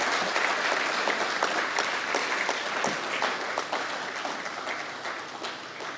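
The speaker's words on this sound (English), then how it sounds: "Let's clap for our veterinary profession." An audience at a veterinary college's World Veterinary Day event claps in sustained, dense applause, many hands clapping continuously at moderate loudness and easing slightly toward the end.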